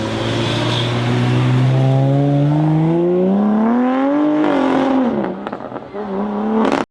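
A BMW M4 Competition with a 3-litre turbocharged inline-6 revs hard, its exhaust note climbing steadily in pitch under acceleration, then dropping off with crackles near the end; loud and close, no talk.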